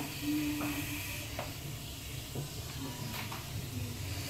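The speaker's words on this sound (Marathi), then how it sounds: "ही बघा, छान अशी मोहरी आपली तडतडली" Mustard seeds splutter in hot oil for raw mango pickle, giving faint scattered pops and crackles over a soft continuous sizzle, close and quiet.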